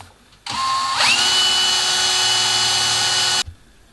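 A power drill whirs up to speed and bites steadily through two clamped metal pieces, drilling a 3.3 mm tapping hole for about three seconds, then stops abruptly.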